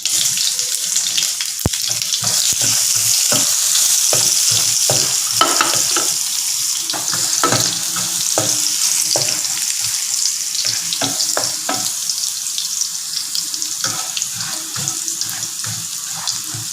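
Garlic fries loudly in a hot pan, a dense continuous sizzle with frequent crackles and stirring scrapes throughout, no voices.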